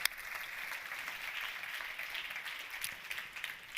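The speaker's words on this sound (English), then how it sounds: "let's give our panelists a very warm round of applause" Warm round of applause from a conference audience for panelists at a COP Presidency event on risk sharing, steady and fairly faint, continuing alone without talk.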